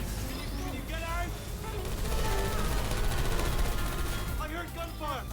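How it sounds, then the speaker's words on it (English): Gunfire in the video game Portal 2, a busy burst of shots blended with other game sounds and music, with voices talking over it throughout. "I heard gunfire."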